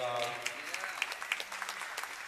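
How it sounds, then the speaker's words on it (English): Theatre audience at the Beacon Theatre in New York applauding, a steady broadband wash of clapping running through the whole stretch with a few sharper claps standing out, while a voice talks over it near the start. "those are baby boomers applauding."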